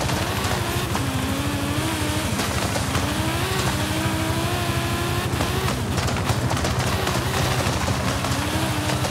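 A car engine revs and drones continuously while driving in Forza Horizon 5, pitch climbing and dropping through gear changes, with sharp tire and impact noises scattered throughout and no speech.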